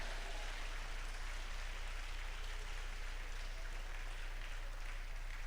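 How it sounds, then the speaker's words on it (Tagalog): A church congregation at an anniversary service claps loudly together, a dense, steady wash of applause that fills the whole stretch without a break. "Lahat ng masaya, pumalakpak na malakas."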